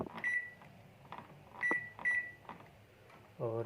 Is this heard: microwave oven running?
yes